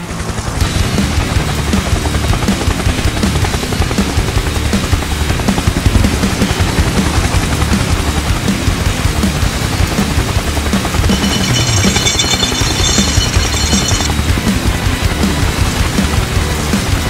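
A steady, loud helicopter rotor chop in a children's police and fire rescue cartoon thunders throughout without letup, with a brief higher whine joining near the end.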